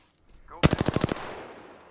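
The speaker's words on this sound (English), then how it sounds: "Yeah, I'm getting shot at." A rapid burst of automatic gunfire in Apex Legends, about eight evenly spaced close shots in quick succession, then a fading echoing tail.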